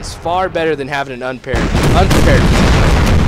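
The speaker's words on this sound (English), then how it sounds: "You can hear the artillery there in the background." Cannon and artillery fire in Empire: Total War, on a Civil War mod battlefield, begins as a dense roaring barrage after someone speaks, continuing as layered rumbling booms in the background.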